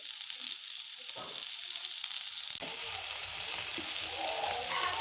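Potato shami kababs fry two at a time in a small frying pan, a quiet steady sizzle with a few soft utensil knocks, close up and without talk.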